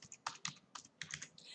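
Keys clatter on a computer keyboard as code is typed for a beginner's dice game, several quick bursts of clicking in an irregular rhythm, close and fairly quiet, with no talking.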